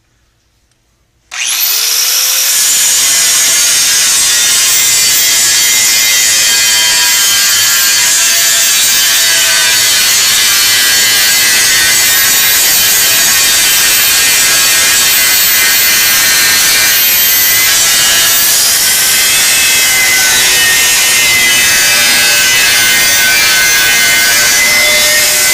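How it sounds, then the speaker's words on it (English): A Rex Cut aluminum grinding wheel bites into a weld on aluminum before powder coating, kicking in abruptly after a moment of quiet and then holding a loud, continuous, harsh grinding roar up close until the end. "So I'm going to do a demonstration on this is a Rex cut aluminum grinding wheel on this, just to address this weld before powder coating"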